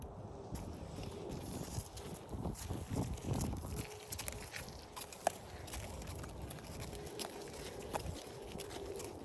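A horse named Bear walks forward on a lead beside its handler, hooves falling in a soft, irregular clip-clop over a low rustling background, close by and fairly faint.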